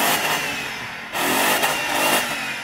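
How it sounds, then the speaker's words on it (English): A BMW engine revs hard nearby in a loud, buzzing drone that dips briefly and then climbs again in two more rising bursts. "rev up your BMW"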